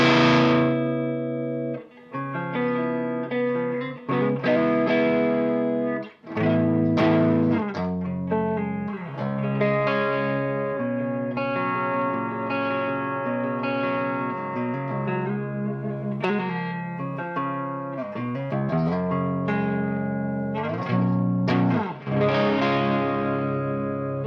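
Electric guitar on the neck pickup played full blast through a Hayden Mofo amp, a loud sustained stream of distorted chords and notes, near and continuous with a few brief drops, no talk.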